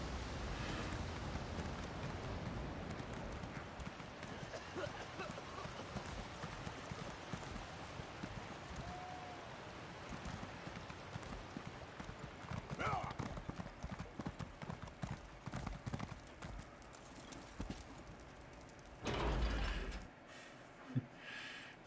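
Steady clip-clop of a horse's hooves trotting on a hard surface in Elder Scrolls Online continues throughout, with a few louder knocks and brief thuds near the end.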